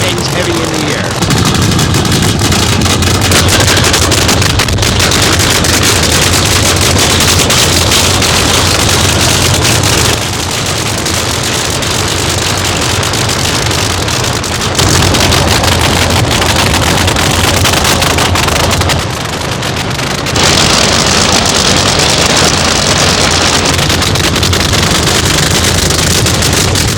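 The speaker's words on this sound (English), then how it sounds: "Nothing in motorsports is as violent as the launch of a nitro funny car." Nitro funny car dragsters launching at night, a loud, continuous, violent roar filling the whole clip with brief dips between runs, sounding near and overwhelming.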